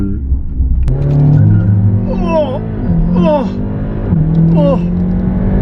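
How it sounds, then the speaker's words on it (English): A Stage 1 tuned VW Golf R with an EQT COBB ECU tune fires off a launch-control start, engine droning loud and close before surging through rising revs and gear changes as the tires spin. "That's the first time we've ever got wheel spin on a launch before."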